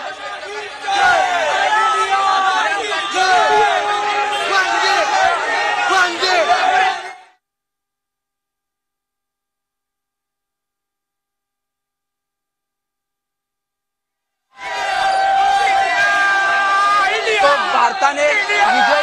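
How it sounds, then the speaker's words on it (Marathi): Cricket fans at Shivaji Park in Mumbai celebrate India's win with loud crowd cheering, shouting and chatter, which cuts off abruptly into silence for several seconds before the roaring crowd returns. "हा संपूर्ण उत्साह जो आहे तो मुंबईच्या आणि पुण्याच्या असेल रस्त्यांवरती पाहायला मिळतोय"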